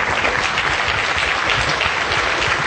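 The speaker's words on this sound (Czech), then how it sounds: "Užívám si spontánního potlesku, děkuji." Audience applause at the WebExpo 2009 web conference: dense, steady clapping from a crowd that holds at an even level for the whole stretch, with no break.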